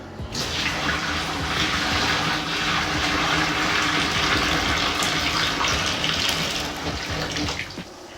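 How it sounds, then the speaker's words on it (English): Hot water pours steadily into a sink, a loud, continuous gushing fill that runs unbroken for several seconds with no talk over it. "Time to add the water."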